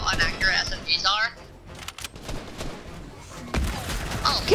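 Submachine gun fire in a video game, rattling in short bursts through a noisy mix, with a voice talking over it.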